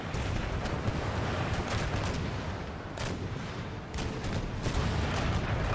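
Cannon broadsides boom from a brig in a naval battle game, heavy shots crashing in quick overlapping volleys over a continuous rumble, with sharper blasts standing out at intervals.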